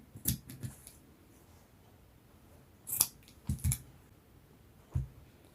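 Scissors cut out a fabric pocket piece for a kaftan boubou dress, giving scattered crisp snips and clicks, close and fairly quiet, in short irregular bursts with pauses between.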